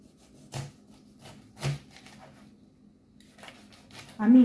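Knife peeling a whole pineapple in a home kitchen, heard as a few sharp scraping, cutting strokes spaced apart with quiet gaps between, followed by a louder rubbing burst at the end.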